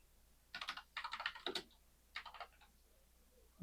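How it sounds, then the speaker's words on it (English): Quiet typing on a computer keyboard, short bursts of quick key clicks with brief pauses between, close and soft, with no one talking. "Now we're typing in the execution environment."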